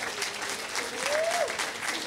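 An audience at a municipal inauguration event in Acapulco applauds the municipal president, a steady dense wash of clapping throughout with a faint whistle rising and falling midway.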